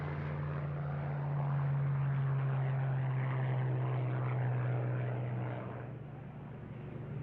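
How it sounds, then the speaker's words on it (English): A Lockheed P-38, the twin-engine single-seat fighter, drones loudly overhead with a steady propeller hum that swells, holds, then eases slightly toward the end, heard alone without voices. "The Lockheed P-38 was an extraordinary airplane."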